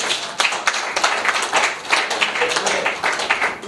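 An audience at a political rally for President Félix Tshisekedi claps in a dense, steady burst of applause that carries on throughout, close and fairly loud, with no talking over it.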